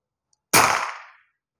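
A single sharp shot from a Bocap Onyx air rifle firing a JBS pellet cracks out of silence, loud and close, then decays quickly over about half a second.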